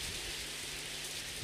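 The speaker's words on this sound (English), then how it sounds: "it pissing down with rain again" Rain falls steadily in the visual novel game Shuffle!, a dense, even hiss of downpour that carries on without a break and has no talk over it.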